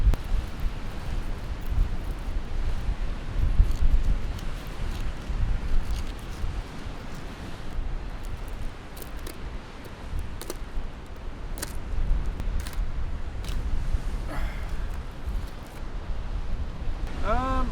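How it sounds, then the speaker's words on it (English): Wind blows across a beach during a fishing outing with a continuous low buffeting rumble on the microphone. Occasional crackles and rustles come up close throughout. "It has been really windy, but it's starting to back off now, which is nice."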